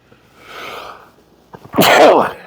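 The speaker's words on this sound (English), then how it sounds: "I'm going to sneeze." A single sharp sneeze after a soft breathy intake, loud and close, with no talking.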